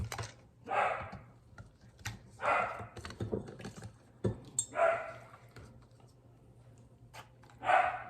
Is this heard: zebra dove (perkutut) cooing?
no